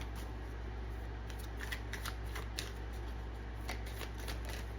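Daily Magic Oracle deck cards being shuffled and pulled by hand, a soft papery riffling and slapping with scattered brief flicks over steady low hum, fairly quiet and close.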